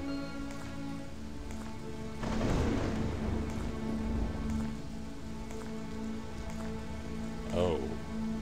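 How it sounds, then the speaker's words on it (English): Steady rain patters on a surface beneath a low hum, with a brief swell of heavier noise partway through and a faint distant rumble. "I remember the rain."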